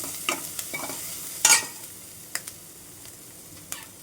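Fennel seeds and ginger garlic paste frying in oil for tomato soup, a soft sizzle with a handful of sharp spatula clicks and one brief hissing burst, no speech.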